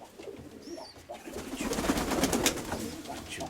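Pigeons in a backyard loft give soft cooing calls, moderately close, against a busy rustling background with some chirping; no one talks.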